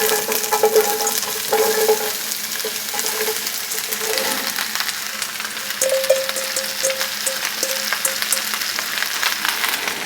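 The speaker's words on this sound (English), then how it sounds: "Drop the onions in there before that garlic starts getting too brown." Onions and garlic fry in a pan, a steady bright sizzle with occasional stirring scrapes for the whole stretch, up close and without talk, as part of making enchilada sauce for pressure canning.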